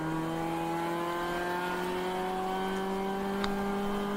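A ChampCar endurance race car accelerates out of a corner on a damp track, its engine note climbing steadily and loudly under sustained power, with a brief sharp tick late on and no voices.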